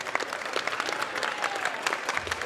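A crowd claps at an event for mothers: fairly quiet, uneven applause with distinct individual claps, heard alone without talk.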